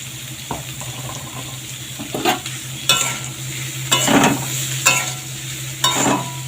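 Ghatkol stems frying in mustard oil with turmeric give a low, steady sizzle, broken by several short scraping bursts of stirring over a constant background hum.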